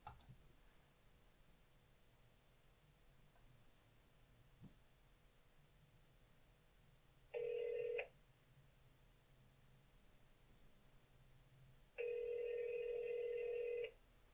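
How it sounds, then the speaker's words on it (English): Outgoing call ringback on a Samsung DeX Station with a Galaxy S8: two steady electronic ring bursts, each about a second long and seconds apart, clear over a quiet background hum. "So I'm just going to click call."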